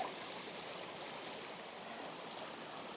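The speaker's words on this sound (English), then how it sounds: "the stream continues to roll through the foreground" A stream on the Cumberland Trail flows steadily nearby, giving a continuous soft rushing and babbling wash with no other sounds.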